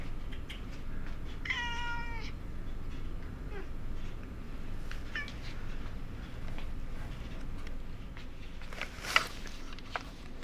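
A cat meows several times with a rising and falling tone, close and clear over a quiet indoor background with faint shuffling.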